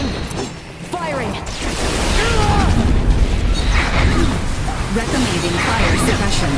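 Heavy weapon fire and explosions in the Star Ocean Divine Force video game, a dense, loud stretch of booming blasts and crashes under a music bed, with voices calling out over the fighting.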